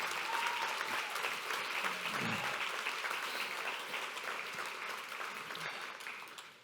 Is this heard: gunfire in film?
no